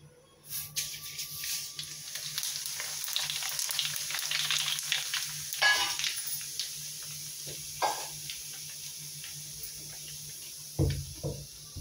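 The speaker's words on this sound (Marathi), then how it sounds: "तेल चांगला गरम झाला आहे। आता या जिरे मोहरी असे आहेत, अर्धा वाटी मिक्स केला आहे मी, तो घालायचा।" Cumin and mustard seeds dropped into hot oil for murmure chivda, bursting into a crackling sizzle that carries on with small pops and a few utensil knocks near the end, no voices.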